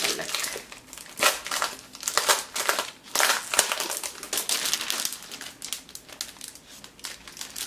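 A clear plastic packaging bag holding single sheets of gold-foiled craft paper, backed with cardboard, crinkles in repeated bursts of close, loud rustling with short pauses between handlings.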